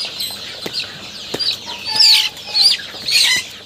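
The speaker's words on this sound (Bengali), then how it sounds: "মুরগি শব্দ করতেছে" Desi Faumi chicken being handled: sharp squawks and clucks in bursts with wing flaps and thumps, close and loud.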